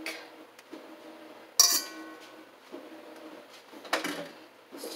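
A stand mixer's whisk is swapped for a paddle attachment with a few close metallic clinks and clacks, including one sharp ring early on and another knock near the end.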